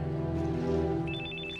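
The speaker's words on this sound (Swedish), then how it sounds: "Din telefon ringer." A telephone rings with a repeated bright electronic trill, entering partway through over a sustained tonal background, fairly clear and close.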